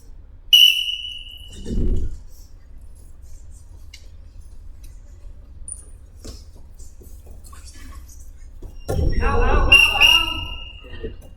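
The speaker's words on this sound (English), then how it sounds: "Blow the whistle, not say it." A referee-style whistle blown during a sparring rehearsal, with a short shrill blast near the start and a longer blast near the end over room noise and thumps.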